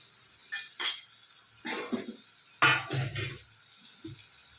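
Okra dropped into a pan of hot masala for masala bendi fry, giving a few short clattering bursts and soft sizzles with quiet gaps in between, close and moderately loud, no voices.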